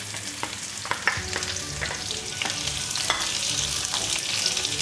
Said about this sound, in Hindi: ये 2 बड़े साइज़ की प्याज हैं, जिसे मैंने ब्रीक स्लाइस में काट लिया है। इसे हम फ्राई करेंगे अब डाल के।